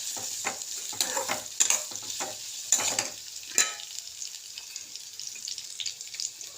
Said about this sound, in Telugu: స్టవ్ ఆన్ చేసి దాంట్లో బాండీ పెట్టుకొని అందులో ఆయిల్ వేసుకున్నాను. వేడైపోయింది. ఇప్పుడు ఇవి ఒక 5 మినిట్స్ వేగాలి.